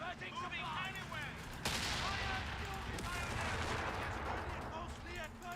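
Sustained gunfire in the Company of Heroes video game, a dense crackle of rifle and machine-gun bursts with a heavy blast partway through, under shouted unit voice lines and background battle noise.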